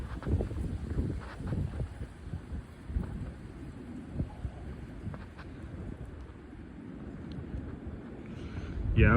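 Strong, gusty outdoor wind during a heavy wind event in January 2025, rumbling and buffeting the microphone in uneven bursts, with louder gusts near the start and end and no talking.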